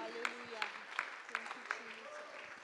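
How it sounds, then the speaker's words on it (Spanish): A church congregation claps together during a service, a steady rhythmic patter of hands at moderate distance with voices and room noise mixed underneath. "Un aplauso porque el Señor está aquí."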